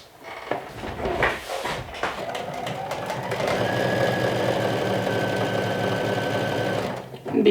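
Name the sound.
serger finishing raw edge of woven fabric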